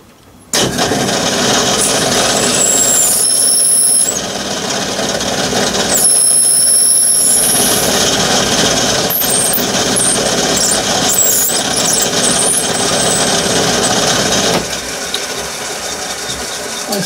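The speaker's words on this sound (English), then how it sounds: "So we'll just start and go through with this drill first." A drill bores a 3/16-inch hole ahead of reaming in a live steam model part, a steady close whirring grind lasting many seconds with brief high whine changes near the start, stopping at the end.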